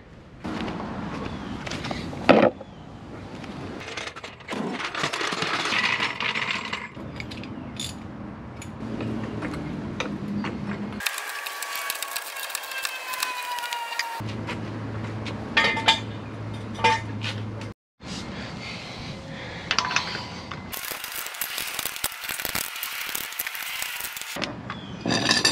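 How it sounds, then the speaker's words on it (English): Work on a VW to remove a wheel and pull out the ABS wheel speed sensor: intermittent metallic clinks, ticks and tool handling, close by, in several cut-together stretches without speech. "I'm gonna pop the wheel off, pull that sensor out"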